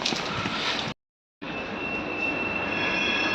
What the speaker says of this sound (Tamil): இப்போ நம்ம மெட்ரோ ஏறிட்டோம்